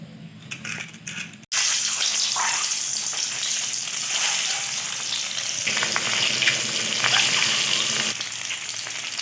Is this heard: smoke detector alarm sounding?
no